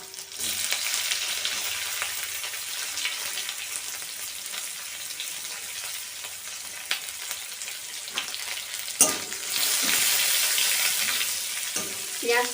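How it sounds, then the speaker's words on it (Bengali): Cumin, dried chillies, bay leaf and chopped onion fry in hot oil, giving a steady close sizzle with occasional stirring scrapes and louder spurts. "পেঁয়াজটা আমরা হালকা লাল লাল করে ভেজে নেব।"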